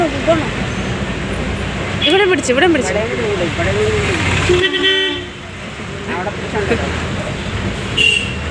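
Busy traffic at the Mannarkkad bus stand, with car horns tooting repeatedly and engines rumbling close by while people talk nearby.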